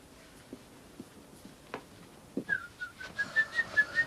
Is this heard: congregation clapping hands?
no